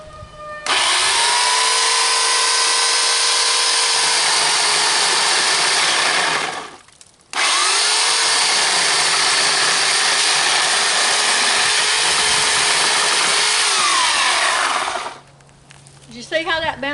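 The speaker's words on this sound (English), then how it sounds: "This little chainsaw is just a Harbor Freight special" A small Harbor Freight chainsaw runs at high revs cutting through pallet wood, with two long sustained whining bursts separated by a brief drop to idle, loud and close.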